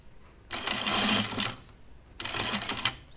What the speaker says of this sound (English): sew to the left of your gathering stitch so that it's completely enclosed into the seam allowance.